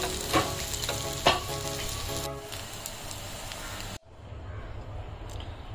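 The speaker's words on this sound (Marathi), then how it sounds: "दोन्ही साईडनी खूप छान अशा गोल्डन कलर वरती फ्राय झालेल्या आहेत" Coriander vadis shallow-frying in oil, a close crackling sizzle with a couple of sharp pops early on that drops to a quieter, steady hiss partway through.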